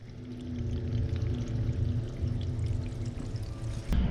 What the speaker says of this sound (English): I hear water starting to flow, and I see water flowing through these tubes, and this is the salt water